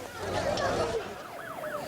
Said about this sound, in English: I can hear the sirens behind me.